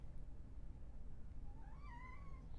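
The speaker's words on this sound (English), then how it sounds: "This is Fred, my cat, one of them." A house cat meows once during a yoga session, a short rising-then-falling cry late in the clip, heard faintly over a steady low background hum.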